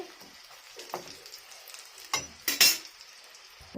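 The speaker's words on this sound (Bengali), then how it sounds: "একদিক ভাজা হয়ে গেছে পুরো ভাজা হয়ে গেছে" Quiet bubbling sizzle of chicken puris frying in oil over low gas, with a few clinks and scrapes of a utensil against the pan, growing briefly louder near the end.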